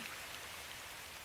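Steady rain falls in a continuous soft hiss with no distinct drops, fairly faint and alone.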